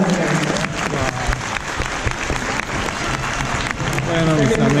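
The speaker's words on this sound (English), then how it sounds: "Give them a round of applause." Audience applause at a dolphin show, a dense steady clatter of many hands that carries on for the full stretch, with voices mixed in and rising toward the end.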